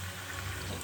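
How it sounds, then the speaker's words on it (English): Rinse water poured into a pot of chicken and mushroom curry, a steady, soft liquid trickle heard close up with no talking. "I might as well rinse out the rest of this water."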